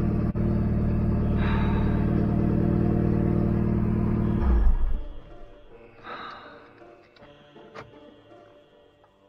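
A Renault Mégane RS with an electronic fault idles steadily and loudly after starting, then cuts off abruptly partway through, leaving only faint scattered noises and quiet afterward.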